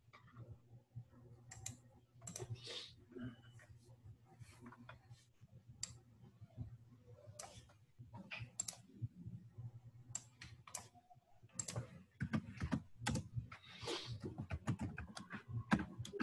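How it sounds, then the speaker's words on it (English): Typing on a computer keyboard, with irregular bursts of crisp key clicks running throughout that grow busier and denser toward the end. The sound is close and moderately quiet, with no talking over it. "I will type here."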